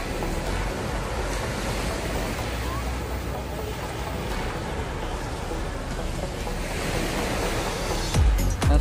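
Steady roar of sea waves washing continuously on a beach at Hac Sa, a broad wash of surf with no voices, ending in a brief clatter.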